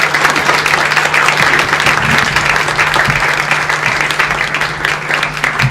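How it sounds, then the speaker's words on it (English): Steady, loud applause from an audience at a Detroit Red Wings sports broadcasters' luncheon, dense clapping sustained throughout with no break. "Kenny Holland, how about a nice round of applause, Ryan Martin."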